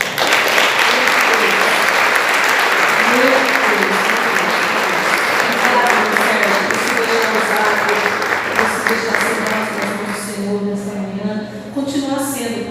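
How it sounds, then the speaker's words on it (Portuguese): Sustained applause from a church seminar audience, steady clapping that fades slightly near the end as a voice begins speaking over it. "vamos aplaudir o Senhor pela vida do Senhor"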